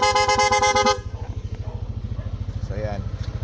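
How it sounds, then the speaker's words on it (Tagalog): A Corsa horn fitted to a Yamaha NMAX scooter, set to rapid mode, blares one steady close tone for about a second. After it, a fast rhythmic idling putter carries on with a brief faint chirp. "Corsa horn, long press, rapid."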